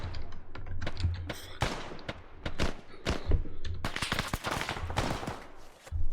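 Bursts of machine gun fire and scattered rifle shots in the military shooter ArmA, sharp repeated cracks at moderate distance, dense in places with a heavier flurry toward the end.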